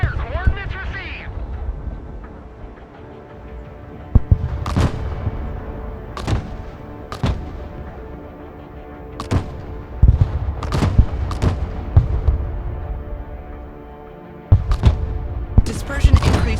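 Artillery fire in the war game Broken Arrow, a series of sharp, booming shots spaced a second or two apart over a low rumbling battle bed, with a radio-style voice speaking near the start.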